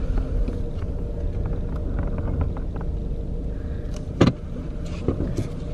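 A new car drives along with a steady low engine and road rumble, a brief louder thump or click breaking through midway, with no talking.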